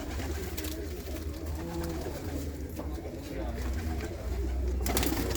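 Pigeons coo from a fancier's loft in a steady run of soft, low, throbbing calls, fairly close, over a constant background hum with no clear talk.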